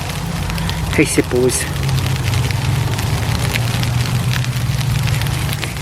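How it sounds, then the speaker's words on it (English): Sleet or hail patters on a tarp at a winter tarp campsite, a steady dense crackle of tiny impacts close overhead. A few sharper knocks stand out near the start, and it runs without a break throughout. "It's starting to come down now. It's just a hail. Or sleet, I suppose."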